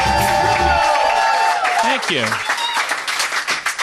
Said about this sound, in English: This is a boisterous crowd we have here tonight.